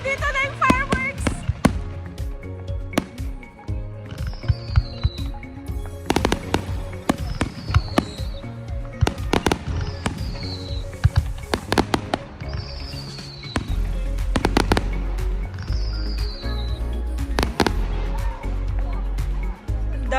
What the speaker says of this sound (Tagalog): Andito na yung fireworks!